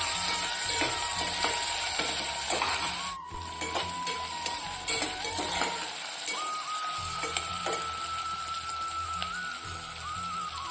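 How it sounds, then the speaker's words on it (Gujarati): Chopped onion sautéing in a pan for soyabean vadi pulao gives a steady, bright sizzling hiss throughout, punctuated by small clicks and scraping stirs, with no talk. "ત્યારબાદ જે ડુંગળી સમારી હતી તેને પણ નાખી સાથે સાથે સાતળતા જઈશું"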